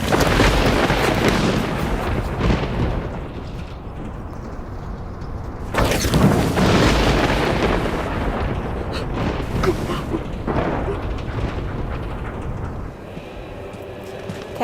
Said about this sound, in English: see how much more of this storm we have to go through